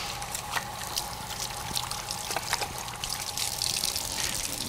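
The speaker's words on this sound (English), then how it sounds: "I'm going to rinse off my hands." Hands are rinsed under a running tap during handwashing, with water pouring and splashing in a steady, fairly faint trickle and occasional small splashes, without voices.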